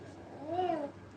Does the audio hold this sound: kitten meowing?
yes